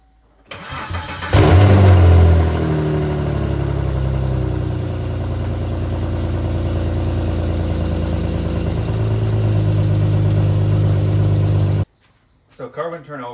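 Manual Volvo 960 with a new engine and an E85 chip cranks briefly, fires up with a loud catch, then settles into a steady, fairly close idle that rises slightly in revs before cutting off abruptly; voices follow after it stops.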